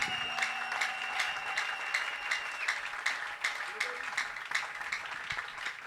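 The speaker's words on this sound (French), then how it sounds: "Nous acclamons le Seigneur pour le frère aimé." A church congregation applauding, with rhythmic clapping pulsing steadily through the room while a voice carries on over it.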